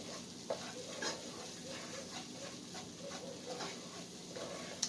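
A flour-and-fat roux sizzles softly in a pan while being stirred, a steady low frying hiss with faint scraping strokes and an occasional light clink, no talking.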